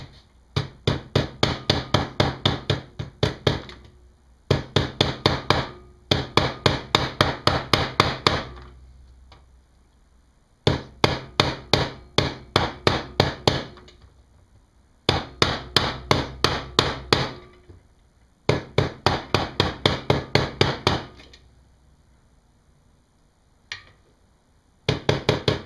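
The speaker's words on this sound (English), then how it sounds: "the pipe's gonna sit right on top of it, and we're gonna hammer it in evenly" Rapid bursts of sharp metallic hammer strikes driving a pipe through a wood block, repeated in quick runs with short pauses between, close and loud.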